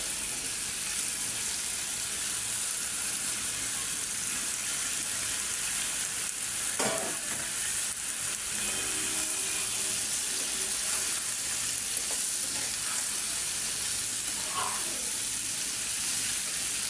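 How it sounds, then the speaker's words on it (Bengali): Bottle gourd is added to fried prawns and stirred in a pan, giving a steady sizzle with a few scraping and clinking sounds of a utensil against the pan. "মাছটা ভালো করে ভাজা ভাজা হয়ে গেছে, এখন আমি লাউটা দিয়ে একটু কষাই নিই।"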